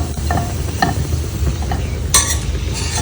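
Tempeh pieces sautéed in a pan, with a soft continuous sizzle under scraping stir strokes and a few light utensil clinks against the pan.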